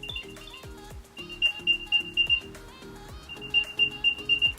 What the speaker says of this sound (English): Now listen to the beep of the AirTag.